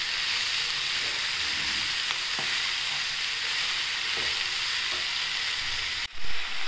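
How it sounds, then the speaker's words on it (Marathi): Tender small methi greens sizzle steadily in a pan while being stirred, a dense close frying hiss with a few soft scrapes of the spoon, cutting off abruptly near the end with a brief clatter. "एकदम आपण छान व्यवस्थित त्याला हलवून घ्यायची सगळीकडनं।"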